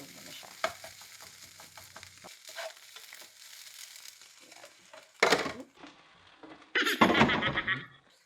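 Canned tuna is mixed with Japanese mayonnaise in a bowl, giving soft wet squelching and stirring sounds. Louder clatters of a spoon against the bowl come near the end, with no voices.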